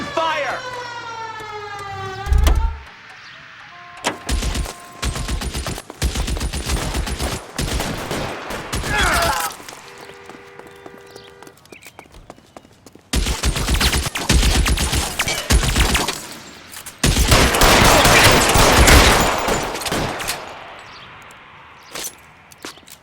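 Gunfire from the LA Noire video game breaks out in several loud bursts of shots alongside a rising, wailing siren, with sharp cracks spread across the stretch and a short quieter gap between the volleys.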